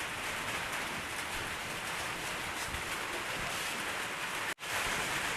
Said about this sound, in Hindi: इसलिए यहाँ पे आवाज़ थोड़ा सा आपको फील हो रहा होगा बारिश का।